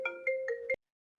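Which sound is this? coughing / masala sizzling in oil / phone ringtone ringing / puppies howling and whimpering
phone ringtone ringing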